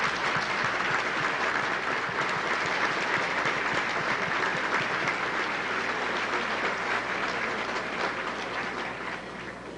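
Loud, sustained applause from a large crowd at a state championship banquet, dense clapping that holds steady before gradually tapering off at the end.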